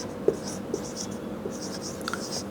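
Writing by hand gives light scratching strokes with a few small taps, close and moderately quiet over a steady background hiss.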